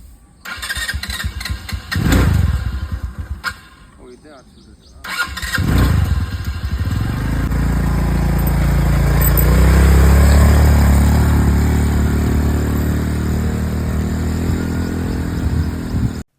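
A scooter at a budget resort near Bangalore sputters to life in two short bursts, then settles into a steady, rising rev that holds close and loud, with people talking over it.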